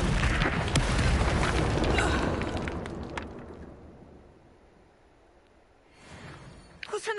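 A loud, roaring Incendio fire-spell blast from the Hogwarts Legacy video game erupts at once, then fades slowly over a few seconds before a softer burst of game sound rises near the end.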